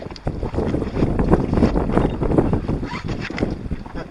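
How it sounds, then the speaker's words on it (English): Wind gusting over an open fishing boat out on the water after storms, a steady broadband rush with low rumbling buffets and hull or water noise, fairly loud and close, with no speech. "Got to keep an eye on this wind and stuff too."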